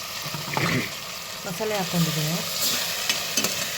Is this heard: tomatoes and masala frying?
yes